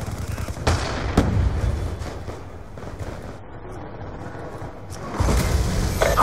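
Rapid bursts of M27 rifle fire in Call of Duty Black Ops 2 Team Deathmatch, sharp repeated shots clustered at the start and again near the end, with game ambience between and a voice talking faintly over it.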